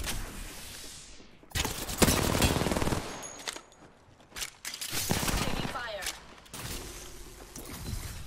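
Rapid automatic gunfire bursts in the Apex Legends battle royale game on Kings Canyon, loud and close, with repeated volleys and impacts broken by short gaps and game voice lines under the shooting.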